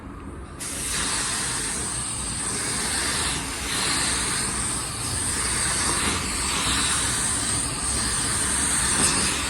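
A Black Widow 2.0 spray gun lays base coat on a car at about 21 PSI with fan and fluid wide open: a sudden onset of steady, close hissing air spray that continues evenly with slight swells, no talking.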